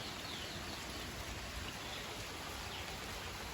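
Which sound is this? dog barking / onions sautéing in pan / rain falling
rain falling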